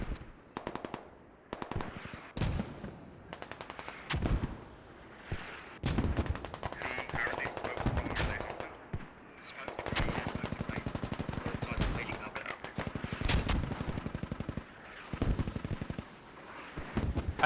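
Incoming artillery strikes mix with gunfire in the tactical shooter game Squad. Sharp bursts of automatic fire and heavy blasts crack out irregularly, some near and loud, others distant, with a commentator's voice faintly underneath.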